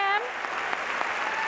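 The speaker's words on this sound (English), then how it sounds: "I want a big round of applause." An audience applauds the Piedmont High School drama actors with a soft, diffuse wash of clapping after a brief voice at the start.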